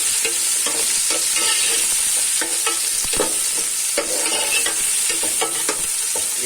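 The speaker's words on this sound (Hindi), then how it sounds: "अब ये प्याज डाल दूंगा इस तरह से।" Onions sizzle and fry in a pan for goat head curry, a constant hissing crackle broken by scraping stirs of a spoon.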